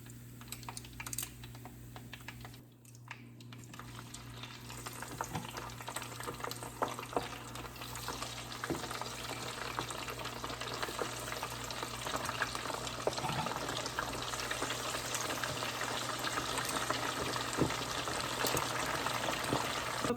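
Second batch of Haitian-style fried chicken frying in hot oil, a steady, close crackling sizzle that runs continuously and grows slightly denser over time.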